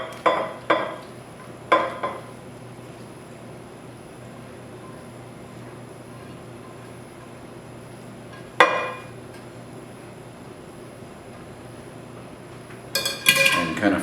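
Sauteed wild rice being scraped into a buttered casserole dish for wild rice hotdish, with a few clinks and knocks of a utensil on the dish, scattered between quiet stretches and a busier clatter at the end.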